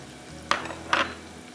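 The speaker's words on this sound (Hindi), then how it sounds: "इसको हम अच्छी तरह से फ्राई करेंगे।" Two tablespoons of garlic frying in a pan, with a low steady sizzle broken by two brief, louder scraping stirs, close by and without talking.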